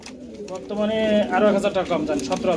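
Pigeons coo at a pigeon sale where grizzle and other fancy breeds are offered, a steady rounded cooing running beneath a man's close, continuous talk for most of the stretch.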